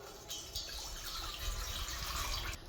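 Water poured from a small vessel onto jaggery for syrup, a faint close trickling and splashing lasting a couple of seconds.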